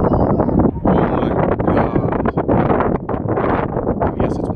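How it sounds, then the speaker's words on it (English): Strong wind buffets the microphone at a canyon lookout, a loud, continuous roar with gusty surges and no talk. "Yes, it's windy."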